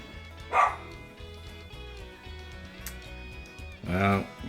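Missy the dog barks twice outside a closed door, a few seconds apart, fairly near, over a low steady hum.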